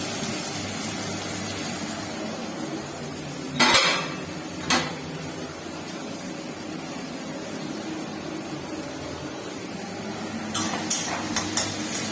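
Onions frying in a pan, with a low steady sizzle under room hum and a few clear clinks of a utensil against the pan partway through and near the end; no one speaks.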